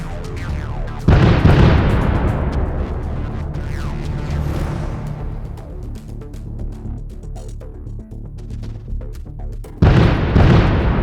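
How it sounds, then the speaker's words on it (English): Two loud explosions, one near the start and another near the end, each a sharp blast followed by a long rumbling decay. "The explosion shattered the illusion of safety."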